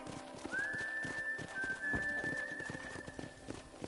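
A horse gallops under a rider in the Western video game Red Dead Redemption, with steady hoofbeats running throughout beneath a sustained whistle-like tone and background game audio.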